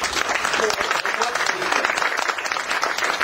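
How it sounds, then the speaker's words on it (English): Audience applause for Rami Ranger at the Pakistan India & UK Friendship Forum, dense, steady clapping from a crowd filling the whole short stretch, with faint voices beneath. "a big round of applause for him"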